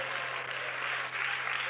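A church congregation claps along during a lively worship service, producing a dense, steady wash of clapping that lasts the whole stretch without a break.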